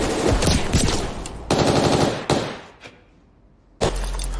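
Movie gunfire erupts as bursts of rapid machine-gun fire with sharp shots and breaking, shattering debris, cutting off briefly before a final loud burst kicks back in.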